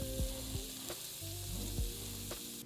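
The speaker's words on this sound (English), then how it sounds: "Veggies sauteing." Vegetables sauté in a pan slicked with andouille sausage drippings for Creole cornbread dressing, giving a steady close sizzle with a few scraping stirs and clinks.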